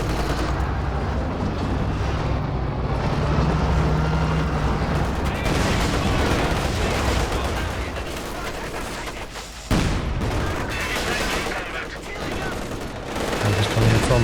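Dense, continuous battle noise from Company of Heroes 2 as Soviet KV-1 and German Panzer IV and Raketenwerfer units exchange fire, with overlapping shots, booms and rumbling effects filling the whole stretch at steady loudness.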